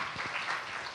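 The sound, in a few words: congregation applause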